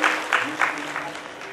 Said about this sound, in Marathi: एका जोरदार कडावून टाळ्या झाल्या पाहिजे